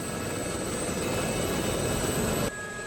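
A Gazelle helicopter's rotor and turbine drone steadily inside the DCS flight simulator, a loud, dense whine and rumble that holds evenly before dropping off sharply near the end.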